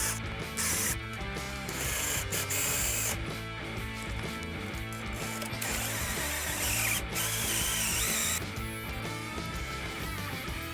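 A power drill bores a hole for a floating shelf pin, its motor whirring steadily and loudly at close range, with a few brief bursts and pauses in the grinding as the bit cuts.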